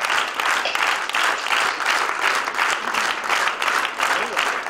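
Dense, sustained applause from a concert audience fills the hall at a live stage show, loud and even, with rhythmic clapping swells throughout.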